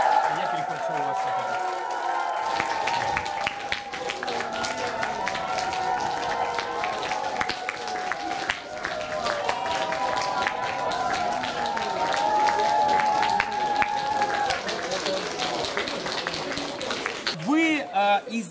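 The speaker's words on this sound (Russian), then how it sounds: "Аплодисменты, друзья!" An audience at the final of a contest applauds its winner with sustained, dense clapping and some cheering throughout, while a voice talks over it and music plays underneath.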